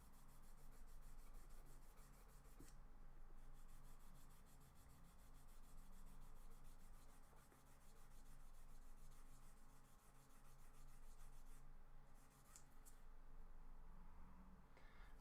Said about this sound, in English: I just need to sand this a little bit with this sort of file